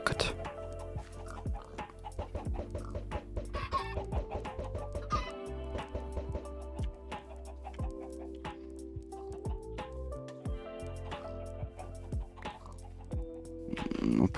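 Chickens cluck in a Minecraft game, a busy flock of clucks and squawks repeating throughout, mixed with other farm animal sounds and game effects, while a voice occasionally talks over it.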